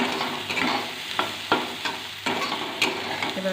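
Sweet corn being stir-fried with chili powder in a pan, producing a steady loud sizzle broken by repeated scraping strokes of a spatula, with no talking.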